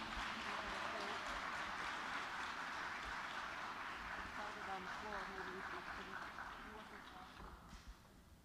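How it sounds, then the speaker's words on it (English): Audience clapping at a debutante cotillion ball, a sustained, dense wash of applause that stays fairly even before easing off toward the end, with faint talk underneath. "Y'all keep the applause going."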